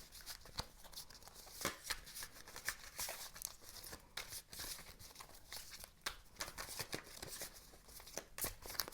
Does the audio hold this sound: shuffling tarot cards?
yes